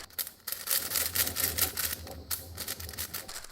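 A Cubicle speed cube with full fitted stickers is turned quickly for the first time, producing a dense run of crisp plastic clicks and clacks that fills the whole moment, close and fairly loud.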